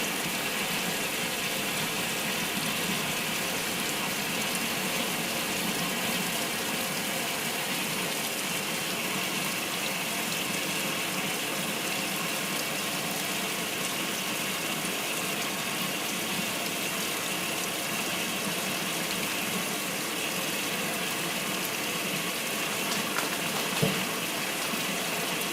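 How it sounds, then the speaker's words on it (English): Sudsy water drains from a Maytag A606 washing machine with an old-style transmission, a steady, unbroken rush of broadband water noise with a faint mechanical rattle, close and continuous throughout. "allowing the sudsy water to go out to the driveway and into the gutter"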